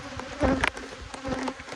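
Honey bees buzz near a hive during a fall honey flow with robbing going on, a close, droning hum with several louder swells as individual bees pass near.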